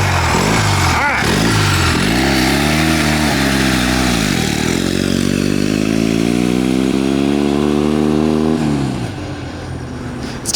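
A turbocharged, generator-powered four-speed mini bike engine roars loud and close, pitch rising and falling through revs, then easing off near the end; no clear talk over it.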